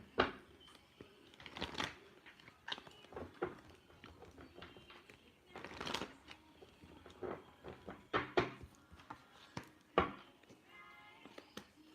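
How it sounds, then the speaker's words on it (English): Tarot cards being shuffled by hand in bursts of crisp riffling and soft slapping, several separate shuffles with quiet pauses between, close and fairly soft. "Definitely therapeutic with the card shuffling"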